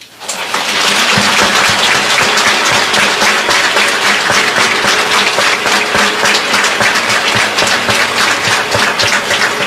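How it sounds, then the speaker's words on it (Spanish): A large congregation applauding at a church gathering in Nicaragua, dense continuous clapping that swells in within the first second and holds loud and steady to the end. "recibe estos aplausos como la súplica y el clamor de tu pueblo"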